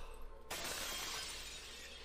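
Window glass shatters in the My Hero Academia anime, a sudden loud crash after a quiet moment, followed by a bright spray of tinkling shards.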